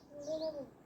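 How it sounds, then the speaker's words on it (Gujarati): A single short bird call rings out close by in the morning, a smooth, tonal note lasting under a second over a quiet background. "કેવું મસ્ત પંખી બેઠું છે, કલબલાટ કરે છે"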